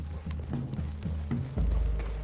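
Horse hooves clip-clop steadily in the video game Red Dead Redemption 2, an even walking rhythm heard close alongside faint mechanical clicks and rumble.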